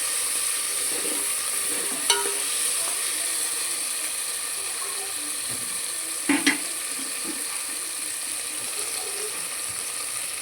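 Tomato, tamarind juice and chili frying in oil with a steady sizzle, broken by a couple of sharp spoon scrapes and clanks as the mixture is stirred in the pan.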